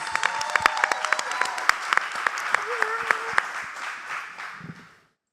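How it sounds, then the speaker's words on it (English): Audience applause welcoming a speaker to the stage for a K&K Smiles talk, a room of steady clapping with a few sharp close claps and a brief voice, fading out near the end. "Let's give her a warm round of applause"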